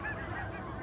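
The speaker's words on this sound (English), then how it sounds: "As you can probably hear, geese are still flying north right now." Geese flying north over North Dakota in April, a brief, faint honking call from far overhead.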